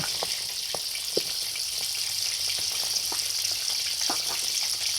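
Mackerel fries in hot oil in a Thai home kitchen, a steady close hiss of sizzling with scattered pops and crackles throughout, and no one speaking.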